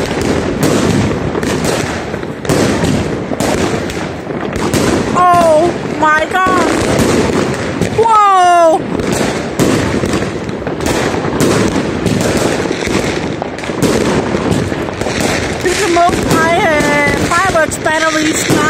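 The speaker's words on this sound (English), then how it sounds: "All the firework is so beautiful." New Year fireworks explode all over the street, a dense run of sharp bangs and crackles with several whistling rockets, loud and close, while people exclaim over them.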